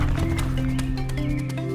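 Horse hooves clip-clopping in a quick, steady rhythm of sharp knocks, close and loud over a droning low background hum.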